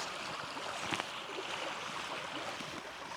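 A small spring trout stream rushes steadily past, its close, even broadband wash filling the whole stretch with no voices.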